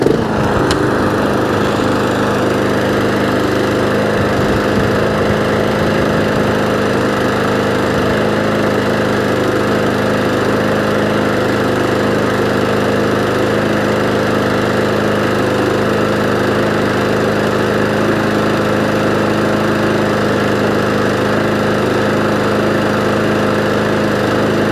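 Flathead lawn mower engine running steadily after a recoil starter repair, a loud, even, continuous drone with a brief rougher patch early on before settling into a constant idle.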